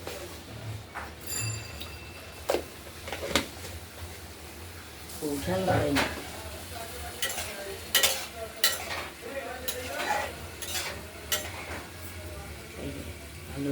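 Fish oil patturi with potato, beans and eggplant being stirred in a pan, quiet sizzling broken by sharp scrapes and knocks of a utensil against the pan, while a voice talks intermittently over it.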